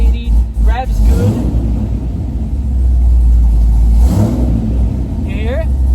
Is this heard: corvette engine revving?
yes